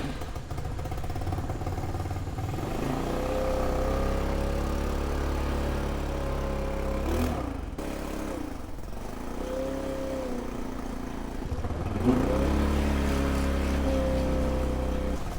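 A Motobravo Roma 150cc scooter under carburetor repair, idling steadily nearby with a low, even drone, engine clatter and a few short rev swells and pitch wobbles, with no talking.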